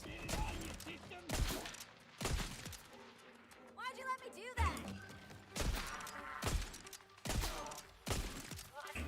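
Repeated gunshots from a weapon in a video game DLC playthrough, sharp loud bursts recurring every second or so over game sound effects, with a brief electronic warbling tone midway.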